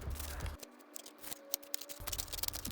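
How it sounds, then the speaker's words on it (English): The spring-loaded scissors of a Gerber Dime multitool are opened and closed by hand, giving a run of small close metallic clicks and snips, quiet and irregular. "A closer look at the spring for the spring-loaded scissors."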